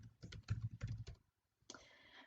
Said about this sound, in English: and then you simply can start typing.